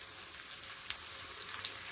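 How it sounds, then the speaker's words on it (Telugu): Spring onion leaves fry in hot tempering oil for a spinach dal, a soft steady sizzle with a few small pops and crackles. "ఉల్లాకు కూడా మంచిగా వేగిపోయింది"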